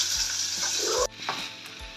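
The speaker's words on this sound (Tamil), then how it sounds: "வெங்காயம், கருவேப்பிலை இட்டு" Onions and curry leaves sauté in a pan for a yam tamarind curry, a bright close sizzle with soft spatula scrapes that suddenly quiets after a second, leaving a low simmering hiss with a few more stirs.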